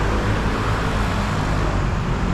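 Steady, loud street traffic rolls past on Estrada de Cacilhas in Macau, a continuous roar of cars and heavier vehicles with no break.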